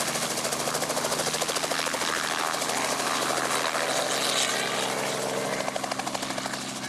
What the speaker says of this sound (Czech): Senioři se mohli dokonce prolétnout ve vrtulníku a na festivalové dění se podívat z ptačí perspektivy.